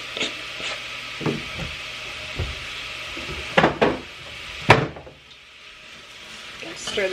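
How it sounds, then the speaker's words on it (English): A spoon scrapes and clacks around a pot of apples with salt and cinnamon, with soft sizzling beneath a few sharp, close knocks and stirring strokes. "Stir this up."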